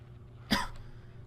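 Single short cough from a character in The Incredibles video game, a sharp burst over a quiet, low background hum.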